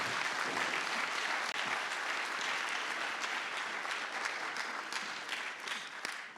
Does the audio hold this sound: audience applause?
yes